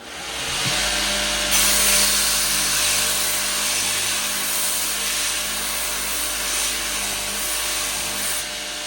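An axe is ground on a soft sander belt, a continuous loud grinding hiss that runs steadily with slight swells and no talking.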